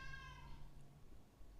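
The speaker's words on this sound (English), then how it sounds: "Even there's a cat meowing on my phone." A phone ringtone of a cat meowing plays once, a single clear drawn-out meow fading after about half a second, close to the phone.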